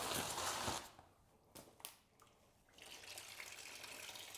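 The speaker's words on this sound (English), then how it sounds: "I'm just gonna slide out this this and dump the rest of the coolant in the radiator" Engine coolant from a BMW E36 M3 radiator pours and gushes in a steady liquid stream, loud at first, then thinning to a few splashes before a softer continuous trickle resumes.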